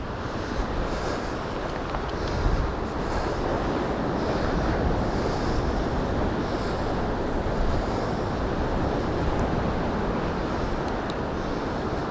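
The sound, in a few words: waves at the beach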